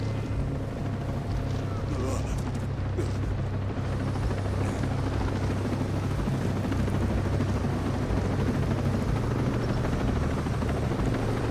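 A helicopter in the video game Ghost Recon Breakpoint drones steadily and loudly throughout, a dense rotor and engine roar that fills the whole stretch, with players' voices faintly mixed in.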